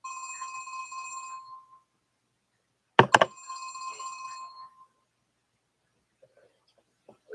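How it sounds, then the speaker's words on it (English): A phone rings indoors in a quiet room, a repeated electronic trill that sounds for a couple of seconds, breaks off with a sharp click, then rings again before going silent. "Uh-oh, there goes my phone."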